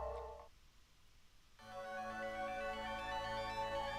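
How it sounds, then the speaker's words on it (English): Menu music from the Higurashi: When They Cry visual novel's tips screen, a faint tonal tune that briefly thins out and then returns with sustained, bell-like notes, played alone without talk. "This is an interesting tips music."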